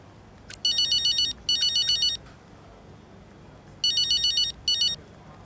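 A phone ringtone in the F1 25 racing game plays as two pairs of bright, electronic trilling bursts separated by a short pause, clear and close over a quiet background.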